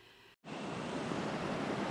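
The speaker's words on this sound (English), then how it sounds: "The river is just fabulous and everything about it I love." A river flows in a steady, dense, close rushing roar that starts abruptly after a brief moment of quiet and continues evenly, with no voices.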